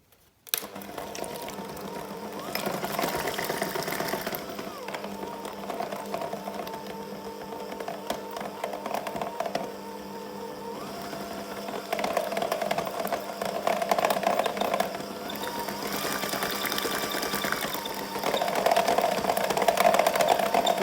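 Liquid cream and icing sugar for tiramisu being beaten with an electric mixer, a steady mechanical whir running throughout at fairly close range, growing slightly louder toward the end.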